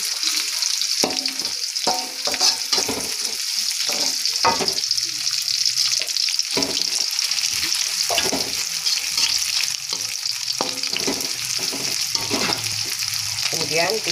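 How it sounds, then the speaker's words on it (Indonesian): Onion is stir-fried in a pan for a sweet-and-sour clam dish, a steady bright sizzle running throughout with repeated scraping stirring strokes close by. "kita masukkan bawang bombay ini. Kita tumis lagi sampai layu."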